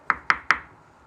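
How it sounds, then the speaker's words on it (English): Three quick, evenly spaced knocks on a wooden cottage door, crisp and fairly close, with no voices. "It was not long before the wolf was once again knocking on the cottage door."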